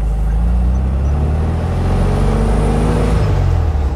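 A VW Beetle with a newly installed muffler and distributor pulls away in gear, its engine a loud, steady, close rumble that climbs in pitch as the car gathers speed, with no talking.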